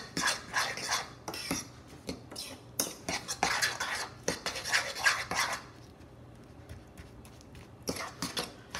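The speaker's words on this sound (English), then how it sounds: "Go ahead and mix the egg and Panko mixture together." Egg and panko are mixed together in a bowl, a close, continuous scraping and rubbing of a utensil with rhythmic clinks, easing into quieter stirring toward the end.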